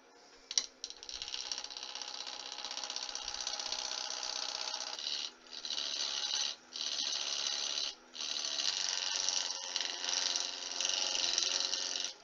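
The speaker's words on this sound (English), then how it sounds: "Now I'm just taking really light cuts." A bowl gouge takes light cuts on a wood lathe, shaping an Easter egg from wood and compact disc case material: a steady, close scraping hiss that runs continuously with a few brief pauses.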